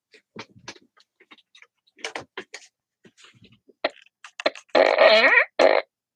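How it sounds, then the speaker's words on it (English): A fart sounds near the end, a loud, buzzy, sputtering burst in two bursts, after quiet scattered clicks and soft shuffling noises. "What's my fart doing?"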